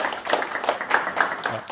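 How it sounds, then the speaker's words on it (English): Audience applause breaks out for a startup pitch at an angel investor training session, a short burst of dense clapping from a live crowd. "yes, round of applause."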